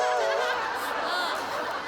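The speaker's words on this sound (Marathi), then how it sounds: "मगाशीच्या रातकिड्यांचा आवाज आहे महाराज" During a stage comedy sketch, a shrill, continuous insect chirping meant as crickets at night whines close and loud for under two seconds, wavering in pitch.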